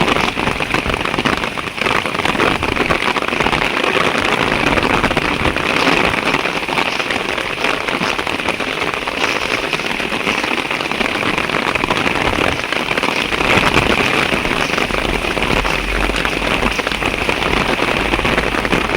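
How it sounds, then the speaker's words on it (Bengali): Heavy storm rain pours down in a loud, steady roar, drumming hard on surfaces without letup for the whole stretch, with no talking over it. "এইরকম বৃষ্টি আমি আর কখনো দেখিনি ভাই এই বৃষ্টি আপনার আসলে ছাতাও মানতেছে না প্রচণ্ড বৃষ্টি"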